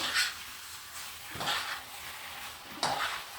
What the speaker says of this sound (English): I'm quickly stirring this.